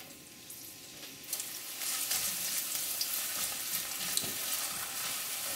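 Ginger and garlic stir-fry in hot oil for a lotus root dish, a steady close sizzle that swells after the first second with scattered crackles and a few spatula scrapes.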